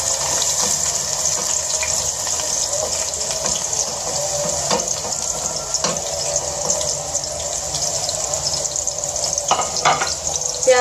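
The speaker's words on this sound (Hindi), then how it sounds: "प्याज को सिर्फ आपने 2 मिनट के लिए इस तरह से फ्राई करना है" Sliced onions fry in a cup of hot oil in a karahi, giving a steady, close sizzle with a bright hiss and occasional sharper crackles and stirring scrapes, continuous and alone without talk.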